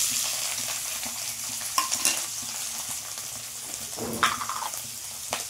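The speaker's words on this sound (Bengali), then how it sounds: "তেলটা গরম হয়ে গেছে বন্ধুরা, এবার আমি গেঁড়িগুলোকে ভেজে নেব।" Pond snails sizzling and crackling in hot oil in a pan, close and fairly quiet, with scattered sharp pops and stirring scrapes over a steady frying hiss.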